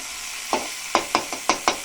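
Pasta ingredients sauté in a pan under a soft, steady sizzle, broken by five or six quick scrapes and taps of a spoon stirring against the pan.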